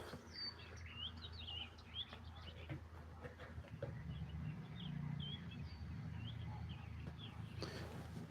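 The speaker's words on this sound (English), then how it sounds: "I forget if people can hear all my birds." Scattered small bird chirps and tweets sound at a distance over a steady low rumble of background noise in a garden, with no talking.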